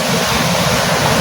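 River water flows and rushes in a steady, dense wash of broadband noise, close and loud throughout with no pauses or voices.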